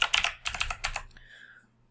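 Rapid keyboard typing in several quick bursts of clicking keys, close and clear, fading out near the end.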